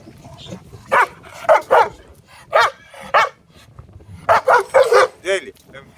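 Farm dogs on fenced farmland barking in a rapid series of loud, close yips and barks, several in quick succession with short pauses between bursts.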